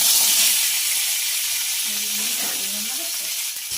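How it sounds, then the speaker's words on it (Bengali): Cut drumstick pieces dropped into hot oil with five-spice seeds, giving a loud, close, continuous sizzle that slowly eases, with a voice speaking briefly over it. "এইবার দিয়ে দেবো কেটে রাখা ডাটাগুলো"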